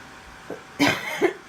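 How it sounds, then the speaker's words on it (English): A few short, harsh coughs from someone close by, spaced irregularly over a quiet background. "I just can't get rid of the coughs."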